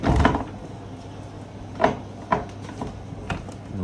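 Wooden double closet doors in a house bedroom are handled: a thump as a door is pulled open, then several light knocks and rattles spaced out over a few seconds, fairly close, with no talking.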